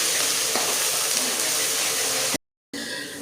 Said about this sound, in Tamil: இப்போ நம்ம கட் பண்ணி எடுத்து வச்சுருக்க பச்சை மிளகாவை அந்த எண்ணெயிலே போட்டு நல்லா வதக்கிக்கலாம்